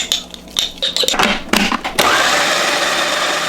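A food processor grinds dried shrimp, ground pork and crab meat for a Vietnamese crab noodle soup, starting with a few clattering bumps before settling into a loud, steady, close whirring hum that runs to the end.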